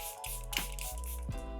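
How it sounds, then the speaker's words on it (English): A Charlotte Tilbury airbrush setting spray is misted in two short, soft hissing bursts over steady background music, close by. "I'm going to go in with this little airbrush setting spray from Charlotte Tilbury"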